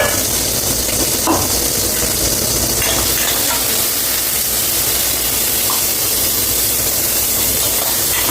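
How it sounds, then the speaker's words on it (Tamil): Onions and tomatoes sautéing in a pan for a lentil-dumpling curry, a loud continuous close sizzle and hiss with no talk over it. "வெங்காயம் தக்காளி நல்லா வதங்கட்டும்."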